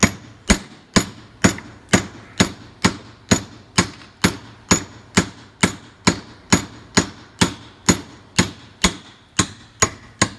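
Sharp hammer blows strike hard over and over in a steady, even rhythm, each crack ringing briefly before the next, close and loud, with no talking.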